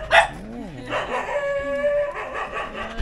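A puppy yelps and howls in short, close bursts with rising and falling whines, mixed with higher yips, while people talk softly nearby.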